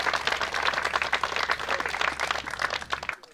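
Applause from fans at a pro slalom event, loud dense clapping that keeps going steadily for a few seconds and then cuts off abruptly, with no talk.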